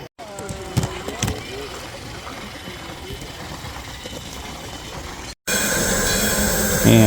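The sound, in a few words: live steam garden railway train passing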